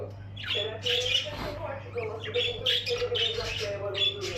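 Canary chicks squawk in quick, raspy bursts, close by and constant, over a steady low hum.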